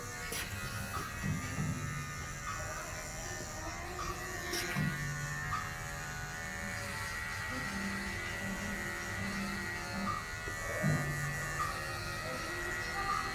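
Electric hair clippers buzz steadily while cutting a strip through the middle of wavy hair for a flattop, a continuous close hum with slight changes in pitch as the blade passes.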